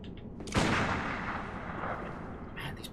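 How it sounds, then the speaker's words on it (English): A pistol shot in the video game Bloodborne, set in a dank basement, lands as one sudden heavy blast followed by a long booming decay, loud and close with no talk over it. "Man, these pistols."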